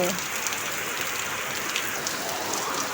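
Heavy morning rain falls steadily nearby, an unbroken, even patter and hiss with occasional sharper drops and nothing else over it.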